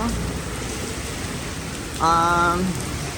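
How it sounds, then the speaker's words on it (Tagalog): Rain falling on Fifth Avenue near West 48th Street in New York City, a steady soft hiss of falling drops with a short tonal sound rising briefly near the end. "Umuulan."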